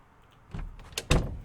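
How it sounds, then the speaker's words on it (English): Knocking on a door in the Project Zomboid video game, a few dull thuds in quick succession, the last ones loudest, with no talk. "Someone knocking on the door out here"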